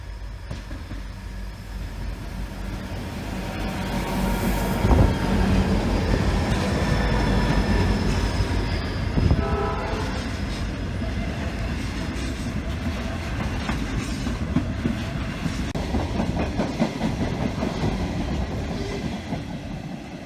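A Class 81 locomotive hauling a freight train rumbles past with a heavy, continuous roar, metallic clatter and squealing wheels, loud and close throughout.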